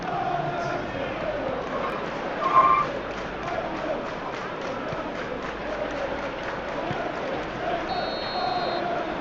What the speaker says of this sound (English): And there is the half-time whistle.